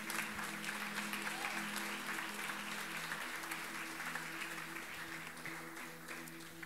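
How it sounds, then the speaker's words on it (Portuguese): Church congregation applauding the Lord, a dense, steady wash of clapping from a crowd that fades slightly toward the end, heard without speech. "Pode aplaudir ao Senhor."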